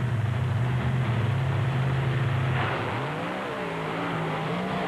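A big red Dodge monster truck roars in a 1996 race at Canfield, its engine a loud, continuous heavy drone that dips and then climbs in pitch as it revs.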